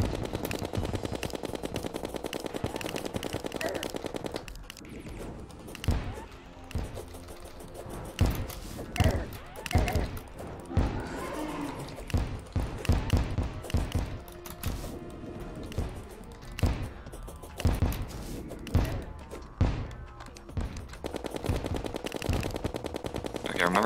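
In a dungeon video game, an enemy fires skulls in rapid repeated shots that sound like loud gunfire bursts, with steady dense firing at the start and end and choppier volleys in between.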